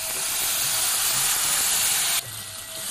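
A paste of ginger, chilli, garlic and cashew hits hot oil with cumin, giving a loud, steady, close sizzling hiss that drops off slightly near the end, with no talking.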